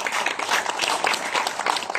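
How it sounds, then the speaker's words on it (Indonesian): An audience claps for a speaker at an IT conference, a brief steady patter of applause throughout. "tepuk tangan dulu untuk Bapak Arifal."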